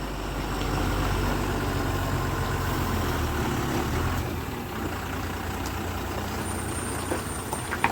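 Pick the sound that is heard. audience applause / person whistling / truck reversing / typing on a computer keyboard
truck reversing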